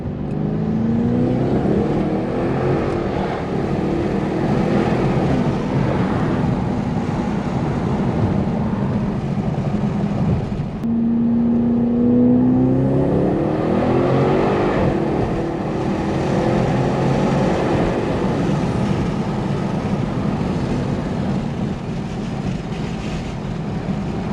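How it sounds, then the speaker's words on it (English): A straight-piped Audi S7 with a 4.0T engine and upgraded RS7 turbos accelerates hard, a loud, continuous engine roar with a rising whine that swells twice, heard close and without any talking. "turbo spool is a little bit more pronounced"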